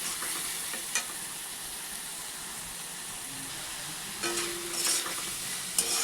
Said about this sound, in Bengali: দিয়ে এই যে নাড়াচাড়া করে দিচ্ছি। এটা ভালো মতো কষুক